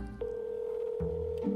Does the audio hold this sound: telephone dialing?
yes